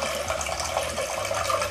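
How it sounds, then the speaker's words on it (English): Water from a water-driven timer streams steadily into its collection tank, giving a continuous close splashing trickle with no voices. "our water is coming down at a consistent rate into our"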